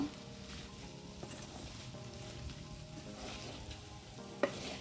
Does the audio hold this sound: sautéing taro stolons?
yes